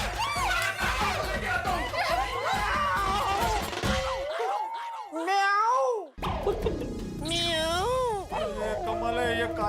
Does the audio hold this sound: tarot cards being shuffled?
no